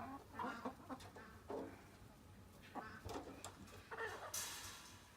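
Several chickens cluck in short bursts, fairly quiet and somewhat distant, with intermittent calls over a low background hum.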